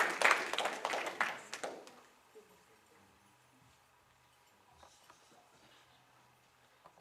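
Audience applause for high school performers at a graduation ceremony, a dense burst of clapping that fades out after about two seconds, leaving quiet room tone and faint murmurs.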